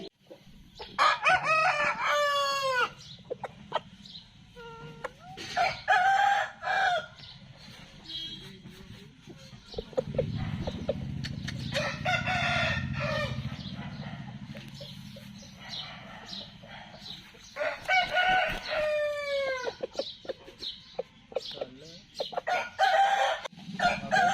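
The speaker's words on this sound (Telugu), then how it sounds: "సంవత్సరం కోడిపుంజు అండి" Several loud crows from a year-old breeder rooster repeat, close by, separated by pauses and soft clucking, with no talking.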